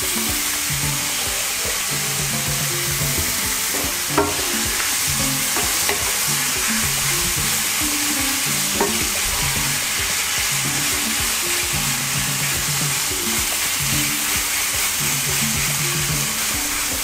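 Cod dumplings frying in oil over high heat and stirred slowly, a steady loud sizzle with occasional scrapes and clicks from the stirring, no voices.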